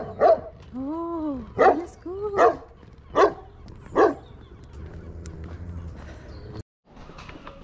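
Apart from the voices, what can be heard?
dog barking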